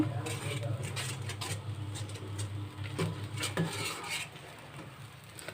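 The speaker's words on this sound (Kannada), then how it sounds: "ನೋಡಿ ನೀವು ಈ ಥರ ಒಂದು ಸೌಟನ್ನು ಬಳಸಿ" A ladle stirs a frying ground almond paste mixture in a metal pot, giving soft scraping and clinking at close range that thins out toward the end.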